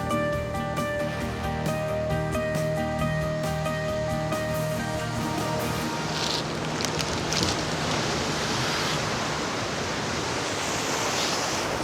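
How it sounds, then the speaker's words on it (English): Ocean waves wash into a seaside rock pool in Sydney, making a steady, loud broadband roar of surf and churning water that continues throughout with no speech. "The waves are unreal."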